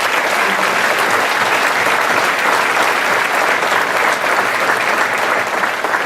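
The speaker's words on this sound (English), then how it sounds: "let's give these leaders a round of applause for all their time and effort" Sustained, dense audience applause at a business organization's annual meeting, steady and loud throughout with no break and no clear talk.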